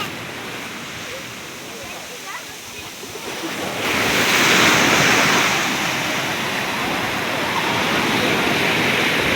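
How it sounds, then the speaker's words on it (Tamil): A big ocean wave breaks on the shore at Tiruchendur beach, the steady surf hiss swelling into a loud crashing wash midway and staying full, with voices talking faintly beneath. "வர்ற பெரிய அலை வருது."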